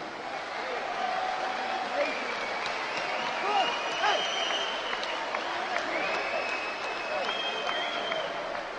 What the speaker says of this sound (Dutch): Graag een keihard applaus voor deze twee absolute toppers.